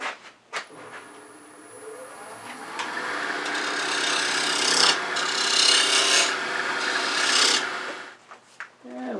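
A tenon is cut on a wood lathe, a tool scraping against spinning wood in a sustained, close rasping hiss that swells and fades and stops near the end.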